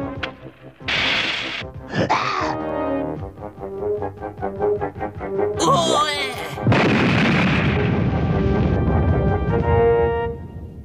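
Cartoon explosion in an Inspector Gadget episode, a loud booming burst amid busy soundtrack effects and music, with a rumbling tail that carries to the end.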